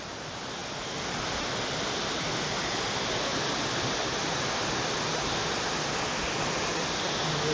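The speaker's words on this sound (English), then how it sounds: "And it actually is raining." Rain pours steadily in a lush Puerto Rico rainforest near San Juan, a dense, loud, unbroken hiss that swells slightly at the start and then holds constant, with no voices.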